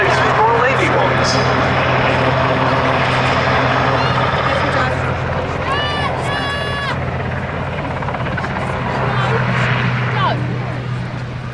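A historic RAF helicopter, screen-used in a BBC drama, flies at the Duxford Battle of Britain air display, its steady rotor and engine drone continuous and moderately distant, with brief bird chirps and a commentator's voice partly heard over it.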